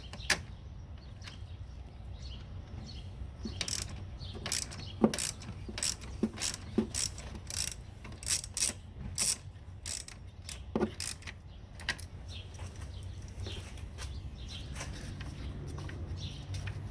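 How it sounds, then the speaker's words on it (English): Ratcheting clicks and short metallic taps from a socket wrench loosening the bolt on a Chevrolet Sonic's positive battery cable, coming in irregular bursts over a low steady hum, close by with no talking. "Loosen the bolt on the positive battery cable."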